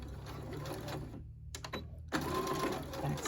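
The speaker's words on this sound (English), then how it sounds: "I'll make sure I start stitching on the interfacing" A regular sewing machine stitches a t-shirt neckline seam through interfacing with a steady mechanical whir, drops out briefly mid-clip, then restarts louder and runs to the end.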